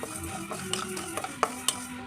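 Mustard seeds, fenugreek and cumin frying on a low flame for tomato pickle, a quiet sizzle broken by several sharp spoon taps and stirring clinks.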